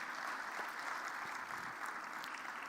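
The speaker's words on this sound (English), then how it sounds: "Please give her a round of applause as she comes onto stage." A seated audience at a youth workforce event claps continuously in steady, even applause, moderately quiet and heard from a distance, with no voices over it.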